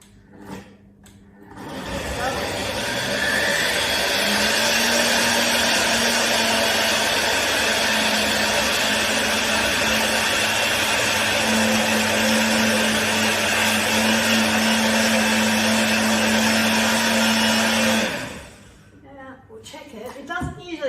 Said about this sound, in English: So we're going to pop that on, we'll blend it up